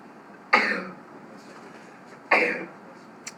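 Two sharp coughs, close and fairly loud, about two seconds apart, against a quiet room.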